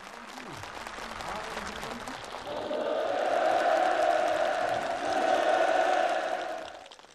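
A crowd of participants applauds enthusiastically at an outdoor housing handover ceremony, dense sustained clapping that swells louder midway with a roaring cheer underneath, then fades toward the end.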